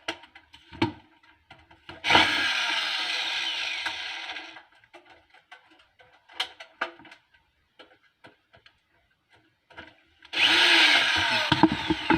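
Screws being tightened on a heater: two long bursts of scraping, grinding tool noise near the start and end, with scattered small knocks and clicks between them in a quiet space.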